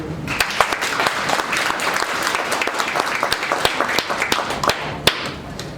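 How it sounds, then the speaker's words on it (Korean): An audience claps at a Korean Democratic Party political rally, a steady mass of hands with a few sharper near claps standing out, no voices heard above it. "큰 박수 부탁드립니다."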